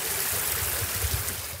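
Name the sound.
water running down a flooded trail like a stream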